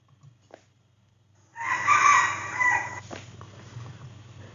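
A rooster crows once, loud and clear, a drawn-out call of about a second and a half after a quiet start.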